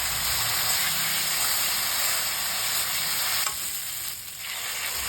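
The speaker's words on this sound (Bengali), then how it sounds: "মশলা ভালো করে কষিয়ে নিয়ে তেল ছেড়ে দিলে এর মধ্যে আমি দিয়ে নিলাম ভেজে রাখা আলুগুলো।" Fried potatoes tossed into hot oil with turmeric, salt and cooked-down spices for a green banana curry, giving a loud steady sizzle and hiss close up that runs throughout with no talking.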